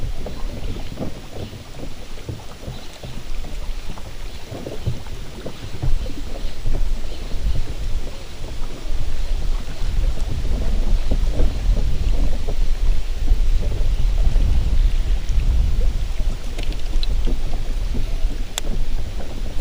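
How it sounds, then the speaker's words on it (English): Strong wind roars steadily over a bass fishing boat on Odessa Reservoir, buffeting loudly and continuously with low rumbling gusts that build toward the middle and stay heavy. "Whoa, that wind."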